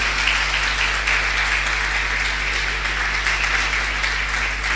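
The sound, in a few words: congregation applause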